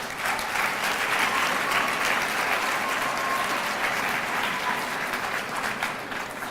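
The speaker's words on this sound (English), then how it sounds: "one more round of applause for Booth Fickett." Sustained applause from a large crowd at a student recognition ceremony, dense steady clapping that continues evenly throughout.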